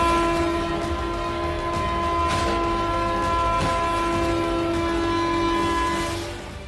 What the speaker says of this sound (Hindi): तभी ट्रेन का ड्राइवर हॉर्न देना शुरू करता है